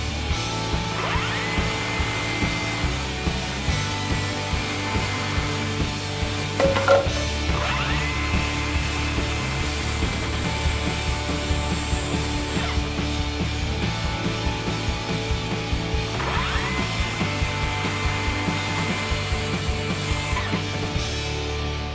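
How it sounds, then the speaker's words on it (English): Eight-foot wooden timbers are cut to length with a power saw, the loud whining cuts repeating in three long passes with short pauses between, close by. "So I'm going to start by cutting these things to length."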